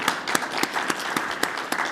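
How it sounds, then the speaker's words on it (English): A small audience at an art show claps for a presenter; individual hand claps stand out distinctly in an irregular but steady rhythm, fairly close and moderately loud. "Let's give a round of applause to Kathy"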